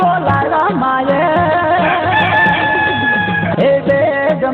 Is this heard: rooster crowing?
yes